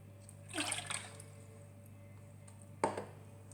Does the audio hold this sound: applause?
no